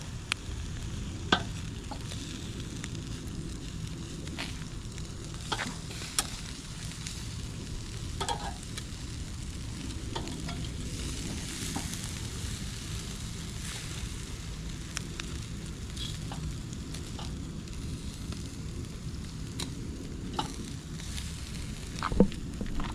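Liver and lamb loin chops sizzling on an outdoor grill, a constant moderate sizzle and crackle with scattered pops and sharp ticks throughout.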